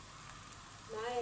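Minced meat frying in a pan while being stirred, a steady soft sizzle with faint scraping that grows a little louder toward the end.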